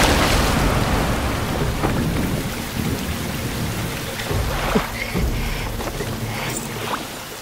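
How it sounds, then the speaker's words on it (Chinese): Heavy rain pours down in a loud, unbroken hiss of drops striking surfaces, with low rumbling undertones and occasional louder splashes, steady throughout and without voices. "这雨可是越下越大"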